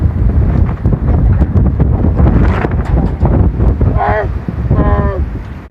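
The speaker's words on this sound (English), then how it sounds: "How's the wind, everybody? Bad." Strong wind buffeting the microphone at a campground in Moab, loud rushing gusts throughout, with voices and a brief vocal exclamation near the end.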